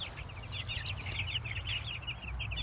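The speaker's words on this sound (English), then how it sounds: "in this little Rubbermaid tote right here, I got 6 more chickens." Six chickens, four of them roosters, in a small Rubbermaid plastic tote give soft, steady clucks and chirps, faint but continuous, over a low background rumble.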